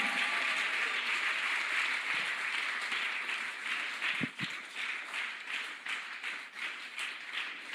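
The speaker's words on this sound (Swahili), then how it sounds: "Kanisa, tumpigie Yesu makofi." A church congregation bursts into sustained, dense clapping for Jesus that fills the room evenly, then thins into scattered, rhythmic claps toward the end.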